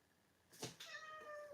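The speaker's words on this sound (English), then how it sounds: "That's a cat, by the way." A cat meows once, quite near and clear. The call is a short, rising cry that ends in a drawn-out tonal wail lasting under a second, heard against quiet room tone.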